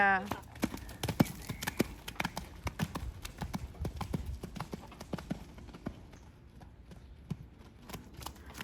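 Young mare cantering, her hooves striking the ground in a rapid, steady rhythm of sharp thuds that fade slightly toward the end, with a brief snort or whinny at the start.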